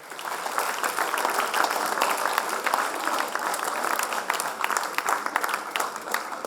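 Steady, dense applause from an audience thanking teachers, authors and mentors at the close of a literature and arts session in Chennai, many hands clapping continuously at moderate distance with no break.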